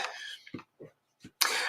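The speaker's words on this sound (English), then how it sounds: "Elbow cough." A few short, muffled coughs come in quick succession, close and fairly loud, followed by a burst of breathy noise.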